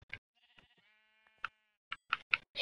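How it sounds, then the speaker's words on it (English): A single sheep in Minecraft bleats with a wavering, drawn-out cry, surrounded by short clicks and taps in an otherwise quiet space. "Sheep."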